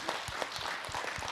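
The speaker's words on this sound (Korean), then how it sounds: "박수 좀 해주세요." Audience applause at a Buddhist talk session, a brief burst of rhythmic clapping from a small crowd, fairly faint and even.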